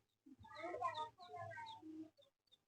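A hen gives a series of close, agitated clucks and squawks with short gaps between them. No one talks over the sound.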